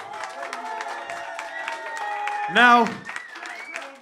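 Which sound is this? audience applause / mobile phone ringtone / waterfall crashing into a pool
audience applause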